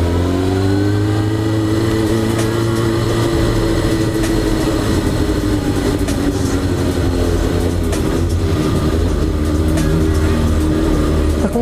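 A Suzuki GSX-R motorcycle pulls away on a hill start in a narrow street, its engine revving steadily and loud and close throughout, with rising and falling engine tones.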